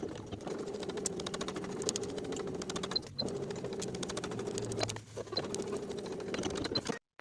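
A sewing machine stitches a wool jacket's sleeve lining closed, running in a fast, steady rhythmic whirr for several seconds with one brief pause before stopping abruptly.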